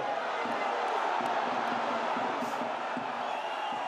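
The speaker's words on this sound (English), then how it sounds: "And the crowd very much in the game." Stadium crowd at a French Top 14 rugby match between Perpignan and Toulouse, a steady distant roar of many voices with faint rhythmic chanting, plus a commentator's voice over it.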